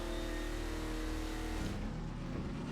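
Car engine in Half-Life 2 Episode Two, a steady mid-pitched drone with revving and a shift in tone partway through, loud and continuous with no talking.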